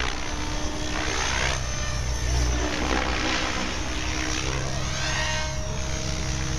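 A Minicopter Diabolo flies in D flight mode at about 1950 rpm, its rotor and engine droning loudly and continuously with a pulsing beat.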